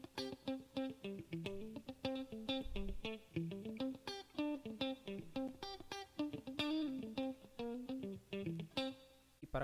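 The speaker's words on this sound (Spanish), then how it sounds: "Para el sonido limpio con chorus utilizo un reverb spring, que es de resortes, como si fuera el de un amplificador." A clean electric guitar tone through a chorus effect and spring reverb pedal plays a steady run of plucked notes and chords, each ringing briefly with a shimmering, wet tail, close and alone.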